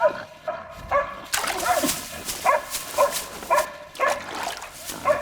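Several hunting dogs bark and yelp in quick bursts while chasing a wild boar outdoors in winter. The barking is loud, close and uneven, with brief grunting or whimpering between the barks.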